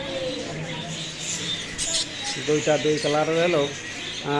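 Caged pet birds at a bird shop chirp and chatter in quick, bright bursts near the end. Someone talks over them throughout.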